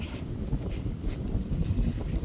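Wind blows on a cold day, a continuous low rumbling gusty rush buffeting the microphone, steady and fairly close with small swells in strength.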